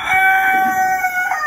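A village rooster crows one long, loud, drawn-out call close by, the sort of crow heard among hens in a backyard flock, with no talking over it.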